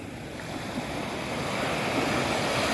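Sea waves at Hat Phayun beach wash in a steady, broad hiss of surf, growing slightly louder over the few seconds, with some wind noise on the microphone and no talking.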